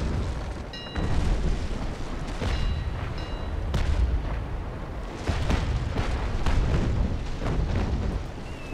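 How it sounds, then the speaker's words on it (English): Ship cannons fire in the naval combat game Naval Action, a run of deep booming blasts and rumbling bursts at irregular intervals, fairly loud, with no talk. "booty cannon time."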